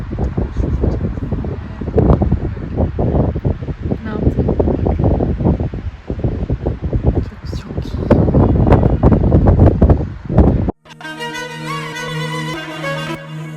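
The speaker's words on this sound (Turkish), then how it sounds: "Övgünün ceketi havalandı ve rüzgara karşı koyamıyor" Heavy gusty seaside wind buffeting the microphone in loud, roaring rushes, then it cuts off abruptly into a bit of music.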